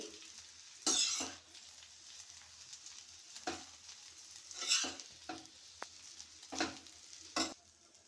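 Garlic rice is stirred in a frying pan with a few scraping strokes spaced apart over a gentle, continuous sizzle, close and fairly quiet.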